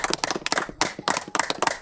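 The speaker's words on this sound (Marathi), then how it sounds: "सगळ्यांनी टाळ्या होऊन द्या." A small group claps together after a fort trek at Malanggad, quick uneven hand claps in short bursts with brief pauses, fairly close and lively.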